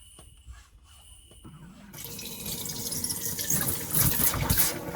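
Cold water runs from a caravan bathroom basin tap into a bowl, a steady rushing flow that starts quietly then swells louder and fuller as the tap opens wider, with no talk over it.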